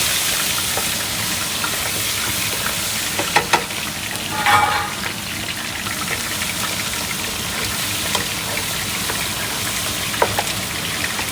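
Diced tomatoes frying in a pan for winter melon soup give a loud, continuous hissing sizzle, with a few brief clatters from stirring partway through.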